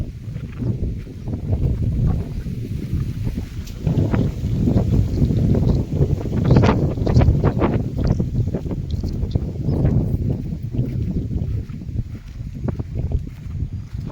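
Wind blowing outdoors, buffeting the microphone in a steady low rumble that swells and eases for the whole stretch, with no talking.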